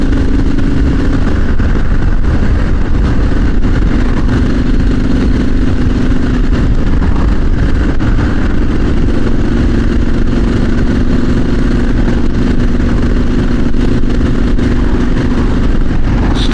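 A motorbike engine drones steadily and loudly throughout while riding, a constant mid-pitched rumble mixed with heavy wind noise, with no pauses or changes in pace.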